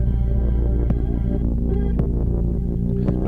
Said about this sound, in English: Number 69 is called the alien verb, and it's a reverse reverb.